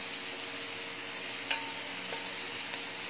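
Lechon belly frying in its own rendered fat with no added oil, a soft continuous sizzle with a couple of faint pops, close but quiet.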